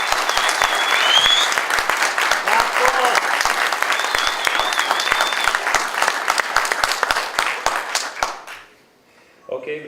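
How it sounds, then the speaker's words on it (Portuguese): An audience at a university game showcase opening gives a big round of applause, dense clapping with sharp individual claps, some voices mixed in, fading out near the end before a brief murmur. "que vocês deem uma grande salva de palmas para o José"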